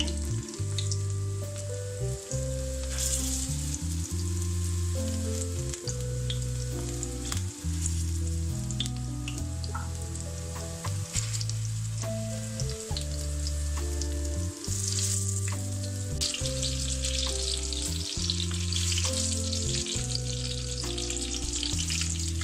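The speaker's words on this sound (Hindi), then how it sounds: "ऐसे आपने सारी मिर्चें गरम गरम ऑयल में डाल के इनको फ्राई कर लेना है।" Batter-coated green chilies fry in hot oil, sizzling loudly and continuously throughout while music plays underneath.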